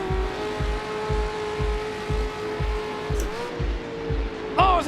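Race car engines roar loudly in a sim racing game, a steady high engine tone over a regular thumping pulse, with a downshift near the end and a brief burst of tire noise.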